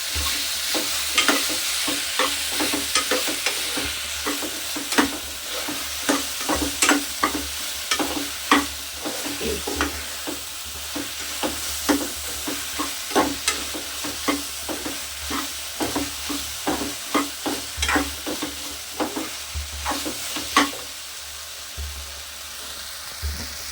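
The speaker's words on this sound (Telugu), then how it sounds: "ఇది కొంచెం బాగా ఫ్రై అవ్వాలి పచ్చివాసన పోయే వరకు అల్లం పేస్ట్" Ginger paste fries in a pan and is stirred steadily. A constant sizzle runs underneath, and a spoon scrapes and taps against the pan in a regular rhythm throughout.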